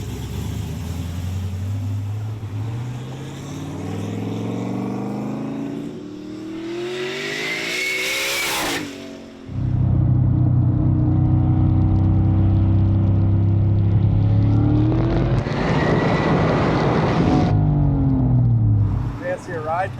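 A turbo LS-powered G35 race car engine revs and accelerates hard nearby, rising in pitch through gear changes, with brief bursts of loud roaring.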